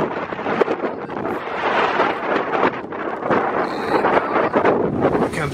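Strong storm wind buffeting a camper at a seaside campsite, a loud, continuous roar with heavy gusts rumbling across the microphone throughout.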